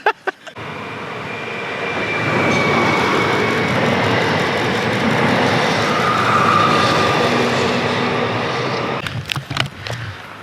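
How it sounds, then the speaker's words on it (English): A train rumbles steadily through a station, building to a loud sustained roar and fading away, with a few knocks and bumps at the start and end. "We're waiting for the train."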